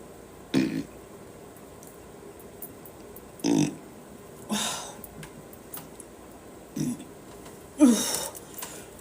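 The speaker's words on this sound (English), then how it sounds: "Because I'm burping?" A woman doing a breathing and energy-healing exercise lets out five short throaty burps spaced a couple of seconds apart, fairly close against a quiet room.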